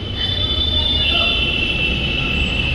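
A metro train runs on its rails with a loud, steady rumble and a sustained high wheel squeal over the whole stretch.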